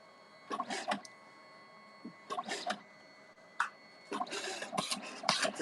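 A concealed photobooth printer at a rustic wedding venue runs in several short mechanical whirring bursts, close and moderately loud, with pauses between passes and no talk.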